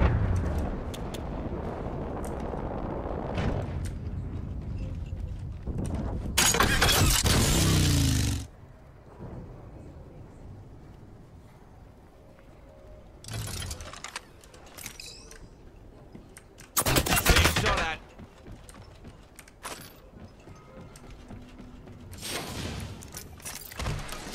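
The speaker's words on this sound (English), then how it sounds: "Knuckle clusters firing." Knuckle cluster weapon firing in the video game Fuse, two loud broadband bursts several seconds apart amid quieter scattered impacts and game noise, with a lower rumbling stretch early on.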